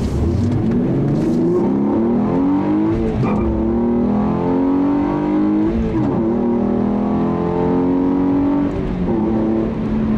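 A 2015 Hyundai Genesis Coupe with a 3.8 V6 pulls hard up to highway speed, its engine note loud and steady, rising through the gears with smooth, continuous revving from inside the car.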